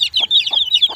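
Young Fayoumi chicks being vaccinated at about seven days old, giving loud close high-pitched cheeps in a quick repeating series with short clucking bursts between them.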